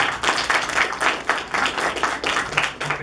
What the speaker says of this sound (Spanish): Un aplauso para ambos equipos.